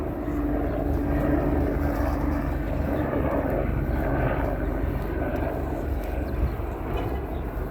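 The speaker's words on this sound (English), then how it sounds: "sorry, there's an ambulance helicopter." An ambulance helicopter passes overhead, giving a steady, rumbling rotor and engine drone that fills the short stretch without letting up.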